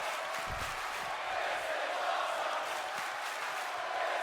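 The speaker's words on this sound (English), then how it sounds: "Crowd audibly chanting the words, "This is awesome."" Wrestling crowd at an Olympus: Road To Whiteout show, chanting together during a flaming-table spot, a steady roaring wall of massed voices that fills the space, continuous and loud with no single speaker standing out.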